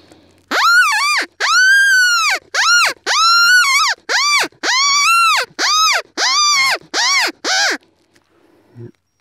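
A series of about ten loud, drawn-out wailing squeals from a split-reed predator call, each rising then falling, imitating a cottontail rabbit in distress.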